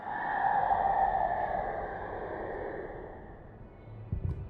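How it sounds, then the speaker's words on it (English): A low, wavering synthetic hum from a Minecraft sculk sensor being triggered swells and lingers for several seconds, then fades, ending with a few soft knocks. "I think we just set off a sensor."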